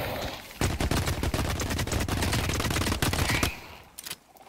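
A heavy-kicking gun in The Cycle: Frontier fires in a fast, sustained automatic burst, loud and close, with sharp repeated reports for several seconds before trailing off.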